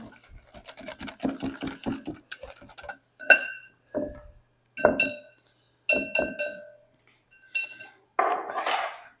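Crème brûlée ingredients are mixed in a glass bowl, a rapid run of light clinking strokes followed by slower, ringing taps of a utensil against the glass, close and clear with short pauses between.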